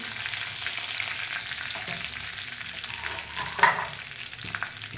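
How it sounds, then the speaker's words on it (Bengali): Bay leaves sizzling in hot oil as a dhaba-style chicken curry begins, a continuous moderate crackle and hiss with a short louder spatter near the middle. "এই তেলের মধ্যে আমি তেজপাতা দিয়ে দেবো"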